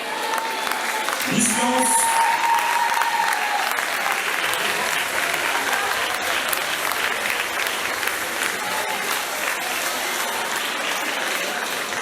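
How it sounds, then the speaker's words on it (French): A theatre audience at the Miss Lens 2024 pageant in Lens applauds students on stage, with dense, sustained clapping throughout and a brief voice over the start. "Merci de les applaudir."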